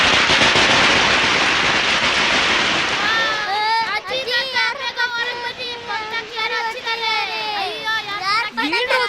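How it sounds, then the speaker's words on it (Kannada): A dense burst of firecrackers crackles loudly at the start, then fades as several excited voices, including children, take over, with a few scattered pops under the chatter. "ಪಟಾಕಿ ಯಾರು ಹಾಕಿದ್ದು?"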